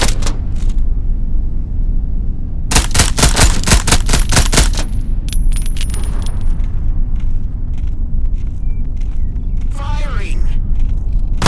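Rapid bursts of gunfire from the game Into The Radius 2, loud and close, with a dense volley mid-clip and scattered single shots and clicks around it, over constant background noise.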